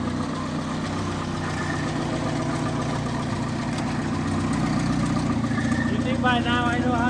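A Citroen H Van's engine runs as it drives off, a steady mid-to-low rumble that swells slightly toward the end, with voices nearby.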